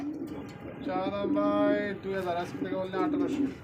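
Racing pigeons coo close by in a pigeon market, with repeated throaty cooing phrases heard over nearby chatter.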